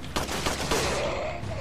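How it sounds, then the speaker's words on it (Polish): Crossbow shots in the Resident Evil 4 Separate Ways video game, several sharp, close bursts of fire landing in quick succession over a continuous game soundscape. "Słyszę cały czas strzały z kuszy za mną"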